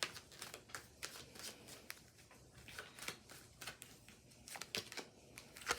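Tarot cards are shuffled, drawn and laid down in a quiet series of soft flicks, slaps and rustles, close and faint, with no talking.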